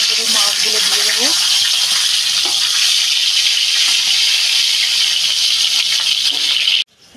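Rohu fish sizzling in hot oil for a Bengali greens dish, a steady loud crackling hiss that runs unbroken for several seconds before cutting off abruptly near the end.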